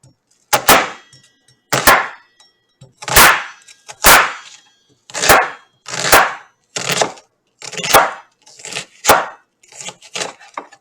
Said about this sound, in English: Let's cut that onion.